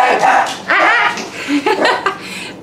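Several dachshunds yip and bark excitedly while playing outdoors, with overlapping high barks and whines close by, mixed with human voices.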